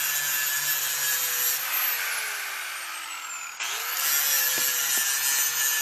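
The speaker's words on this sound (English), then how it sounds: "Now he's got to grind that stump a little bit." A forestry mulcher grinds down a tree stump with a loud, steady high whine whose pitch sags under load, then snaps back and keeps roaring.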